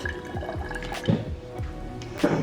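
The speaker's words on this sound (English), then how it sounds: "we are gonna fill this up with water" Water trickles and splashes into a sprouting jar in uneven bursts, close by and moderately quiet, with no voices.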